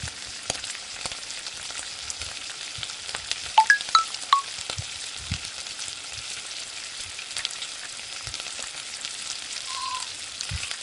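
Chopped onions and two bay leaves frying in oil for an egg and soya chunk curry, a soft steady sizzle with scattered spatula taps and scrapes from stirring, fairly quiet and close with no speech.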